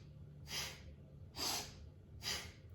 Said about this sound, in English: So it's a sniff breath. I'll show you one more time here so you can hear it.